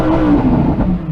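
Lamborghini Huracan STO with its naturally aspirated V10 revs in a brief, loud burst, a steady throaty engine note held close and alone.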